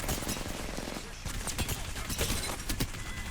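An L-STAR energy light machine gun in Apex Legends fires a rapid, sustained stream of crackling shots at moderate volume, the bursts dense and rhythmic with brief uneven gaps.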